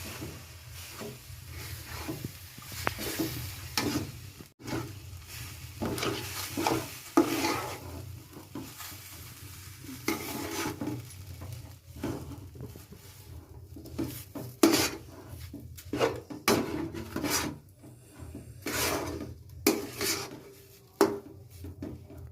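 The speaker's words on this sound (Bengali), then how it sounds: "দুধ দিয়ে এটাকে নাড়িয়ে দেবো।" Semolina and flour being stirred with milk in a metal kadai for sooji langcha, a spoon scraping and rasping against the pan in repeated close strokes, with no talk.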